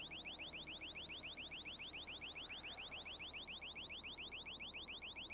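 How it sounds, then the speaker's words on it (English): An in-game alarm in a video game repeats a rapid, steady electronic chirp over and over, heard alone at a moderate distance and continuing evenly for several seconds. "Oh, it's an alarm."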